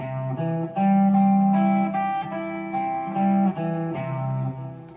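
A single melodic instrument plays a run of sustained notes moving stepwise through changing harmonies, clear and close, with brief gaps between phrases.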